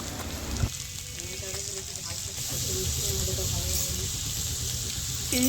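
Soaked chickpeas and potato fry with salt and turmeric in a home kitchen, a soft, continuous sizzle that grows slightly louder partway through, with a voice speaking at times.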